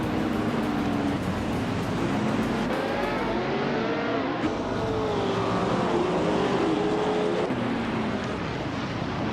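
Racing video game engines at the Denver Pepsi Center track, among them a 1970 Ferrari 512: a steady, loud, dense roar of several cars, with pitch sweeping up and down through gear changes and no break.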